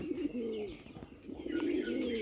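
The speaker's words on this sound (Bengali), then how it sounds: "এই যে ডাকতেছে সুন্দরভাবে ডাকে বোম্বাই কবুতর" A Bombay pigeon coos in low, rolling calls, two drawn-out phrases close by with faint chirps in the background.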